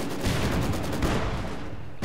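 Machine gun fire in Company of Heroes 2 rattles in a steady, rapid stream of bursts, fairly loud and close, before cutting off briefly near the end.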